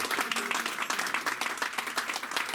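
A church congregation applauding at an evening service, dense sustained clapping from many hands filling the room without pause.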